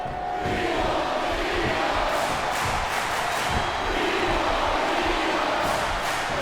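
A crowd cheers and roars in an arena in the SmackDown vs Raw 2007 wrestling video game. The din is steady and continuous, with no voices talking over it.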